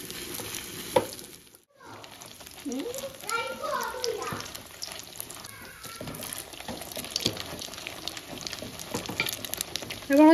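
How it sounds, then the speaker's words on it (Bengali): Tomato luchi puffing in hot oil make a steady sizzle and bubbling hiss that runs throughout, with a voice and adult talk over it. "এই দেখুন এইভাবে আমি সমস্ত লুচিগুলো ভেজে নেব।"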